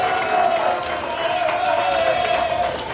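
Audience clapping and crowd noise at a political speech in Tanjung Karang, a steady mid-level wash of applause with a faint tone running underneath.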